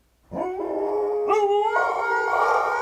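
A person imitates a dog howling: one sustained, close, fairly loud vocal howl whose pitch steps upward midway and then holds steady to the end, with no other talk.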